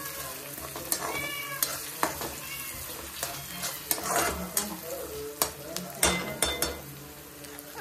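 Tempered rice (phodnicha bhaat) stirred and frying in a pan, with scraping stir strokes over a low steady sizzle, fairly close, and a few sharp clinks of utensil against metal.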